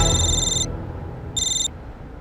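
A telephone rings in two short bright electronic bursts separated by a pause, sitting over a constant low background hum, with no speech.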